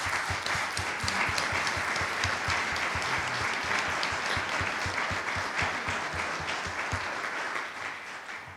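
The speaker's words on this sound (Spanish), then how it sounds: "para quien pido un fuerte aplauso" Strong audience applause for professor Mario Morán at a diploma program presentation, continuous dense clapping with distinct individual claps audible, tapering off in the final second.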